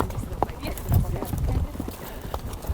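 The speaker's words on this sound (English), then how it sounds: "I tuck my recording gear into my saddlebags and get on a big brown and white horse named Jack" A big brown and white horse walking through open sagebrush country, hooves clip-clopping in an uneven rhythm close by, with a person talking over the steps.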